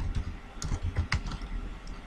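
Someone types HTML code on a computer keyboard, a quiet, close, irregular patter of light key clicks with no talking.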